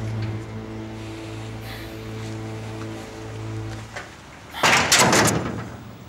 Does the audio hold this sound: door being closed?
yes